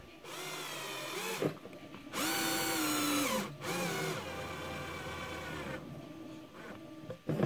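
A cordless drill on a low setting drives M3 screws into a 3D printed plastic shredder, giving a close, loud, high whirring motor whine in several runs of one to two seconds with brief gaps between them, with no talking.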